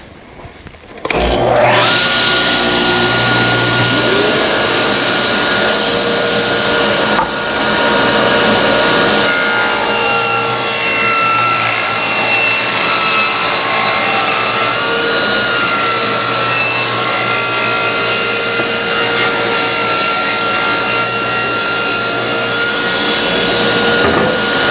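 A table saw with its blade tilted about 12 degrees and set at 2 1/4, ripping a long wooden board for a deck ramp: a loud, steady whine and rasp that runs uninterrupted for over twenty seconds after a brief spin-up, with no talking.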